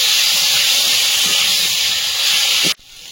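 Cauliflower and potato pieces hiss and steam loudly in hot oil in a pan, a steady broadband sizzle that cuts off abruptly near the end, leaving a quieter hiss.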